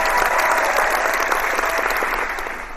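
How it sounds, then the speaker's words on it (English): Canned crowd applause sound effect played during a Monday night hangout stream, a dense, loud burst of clapping that holds steady and then begins to fade near the end. "Did you really just say all that so that you could use that clap sound effect?"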